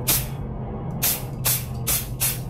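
AESUB blue 3D scanning spray is released from an aerosol can in five short, sharp hissing bursts separated by brief pauses, close and fairly loud.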